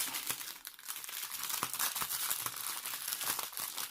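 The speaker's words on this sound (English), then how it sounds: "Sorry about the crinkle, but you can't help it." Plastic packaging of a Halloween diamond painting kit crinkling continuously as it is handled during an unboxing, close and fairly loud, with sharp crackles throughout.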